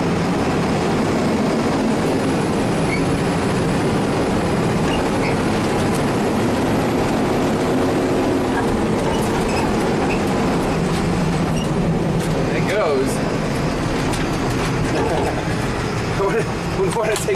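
A loud apocalypse truck engine roars at full throttle in a swamp, a heavy continuous drone with rumbling wind-like noise throughout.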